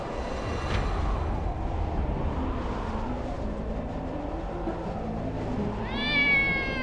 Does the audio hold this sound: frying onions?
no